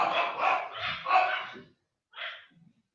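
A dog barks in a quick run of several close, fairly loud barks, pauses, then gives one shorter bark or yip, with no talking over it.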